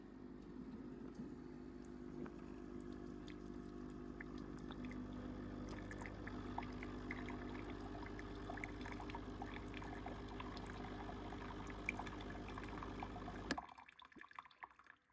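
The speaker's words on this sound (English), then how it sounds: "it's going to pour that shot now" A Ninja coffee machine pours a brewed shot in a steady liquid stream with faint drips, running continuously for about thirteen seconds before stopping abruptly.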